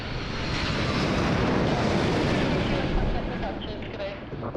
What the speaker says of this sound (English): Here comes Malaysian 123 coming from Kuala Lumpur.